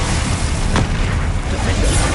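Bombarda explosion spell cast in the video game Hogwarts Legacy: one short booming burst, partway through, over a steady wash of game background noise.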